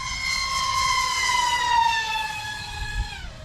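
FPV quadcopter with 2-blade APC or 3-blade Gemfan 5147 props at full throttle on a fast pass into the wind, a loud, steady high-pitched motor whine with strong harmonics that holds and then dips in pitch near the end.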